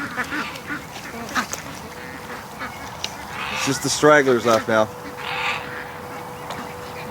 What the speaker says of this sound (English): Duckies in the water.